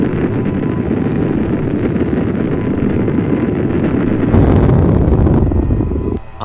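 A cartoon nuclear bomb rocket launching with a loud, steady roaring rumble that surges louder partway through, then cuts off abruptly near the end.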